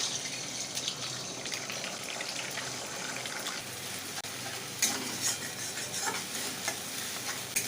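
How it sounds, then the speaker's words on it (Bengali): Beaten, salted egg fries in a little oil in a pan, giving a continuous close sizzle and hiss with occasional sharper crackles and light scraping. "এখানে আমি অল্প তেল দিচ্ছি ডিমটা ভেজে নেওয়ার জন্য"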